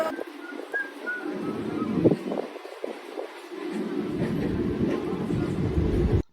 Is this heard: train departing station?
yes